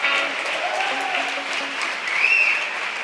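A church congregation applauds hard and continuously, a dense, steady clatter of many hands filling the room, while a voice rises briefly above it.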